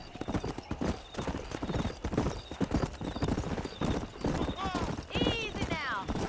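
Rhythmic hoofbeats of a galloping horse in the Western video game Red Dead Redemption, steady clip-clop throughout under game music and character voices, with a whinny near the end.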